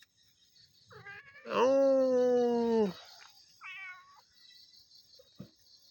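A cat gives one long, loud drawn-out meow near the microphone, followed by a shorter softer meow, with a brief spoken word in between.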